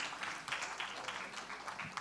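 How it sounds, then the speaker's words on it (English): Audience applause for panelists at a coffee talk event, a brief soft patter of many hands clapping in a room, fairly distant and faint. "Round of applause once again, please, for"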